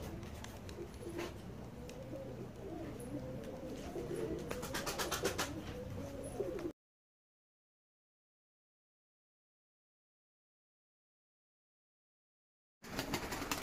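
Tumbler pigeons coo softly amid ambient outdoor noise, the sound dropping out to silence midway before briefly returning at the end.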